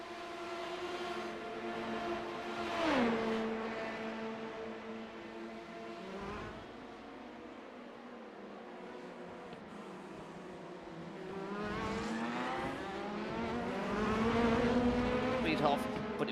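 Prototype race cars flat out down the Monza main straight after Parabolica in iRacing: high, whining engine notes that rise, shift gear and sweep past in several passes. A commentator talks over the engines throughout.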